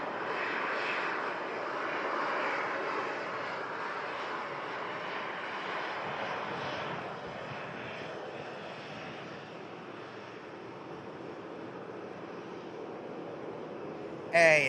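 A Turkish Airlines A321 jet on approach into Manchester Airport during a storm, its engine roar moderately loud and gradually fading, blended with windy rushing noise and a faint voice in the background.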